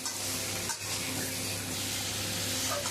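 Vegetables fry in a pan with chili, cumin and turmeric while being stirred, a continuous close sizzle with a brief scrape and dip partway through.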